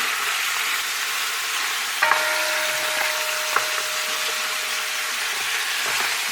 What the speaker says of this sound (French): on va bien laisser frire les manchons de canard